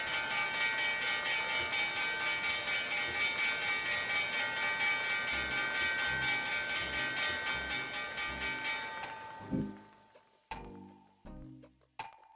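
A stock market opening bell rings in one steady, sustained tone for about nine seconds, then cuts off, followed by a few faint knocks.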